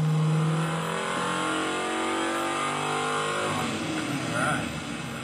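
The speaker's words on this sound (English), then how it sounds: "The next step is to start the engine and let it warm up." A car engine fitted with EZ-EFI electronic fuel injection starts and revs up, then settles into a steady, close, loud run while it warms up, with a rising rev near the end.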